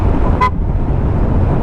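A tricycle on the road gives one short horn toot, heard over steady traffic and engine rumble from inside a moving vehicle.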